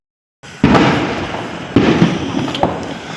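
Firecrackers set off during Diwali celebrations burst in three sharp, loud explosions about a second apart, each followed by a crackling, fading tail.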